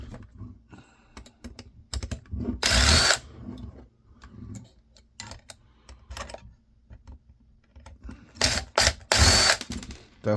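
Powered driver fitted with long bits unscrewing a 1982 camcorder, irregular bursts of whirring and ratcheting spaced between quieter clicks and handling noises, close up with no talk.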